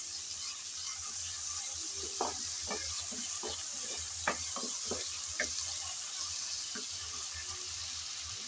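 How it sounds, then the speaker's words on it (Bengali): Ginger garlic paste being stirred and fried in a pan, a soft steady sizzle with repeated light spatula taps and scrapes at an irregular pace. "আদা রসুন বাটা আমি নেড়ে চেড়ে একটু ভেজে নিয়েছি, যাতে কাঁচা গন্ধটা চলে যায়।"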